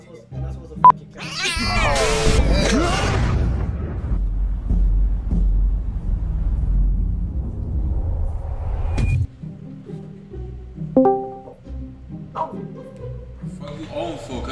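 A cat meows and yowls in loud, wavering cries early on, followed by lower rumbling noise and brief scattered sounds, with people talking at times.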